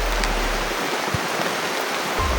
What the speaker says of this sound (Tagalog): Malakas po ng ulan dito.